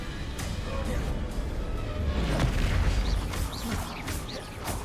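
Booming blasts of the Bombarda spell in Hogwarts Legacy, heavy rumbling explosions overlapping with sharp pops and crackles, loud and near, while a voice talks over the action.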